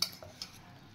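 A spoon stirring coffee into cake batter in a bowl, a few soft close scrapes and light clinks over about a second, quiet and alone.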